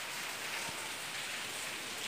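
Steady rain falls outside a room, a constant soft hiss of drops with no breaks, fairly faint and alone.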